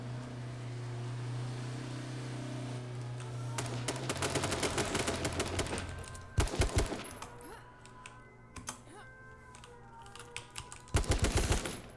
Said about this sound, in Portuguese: Tiro aqui na frente